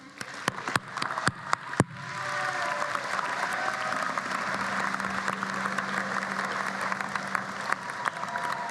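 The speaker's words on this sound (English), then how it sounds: "give them a round of applause again?" Audience applause at a convocation ceremony: a few sharp, separate claps open it, then full, sustained clapping from the crowd builds and carries on steadily to the end.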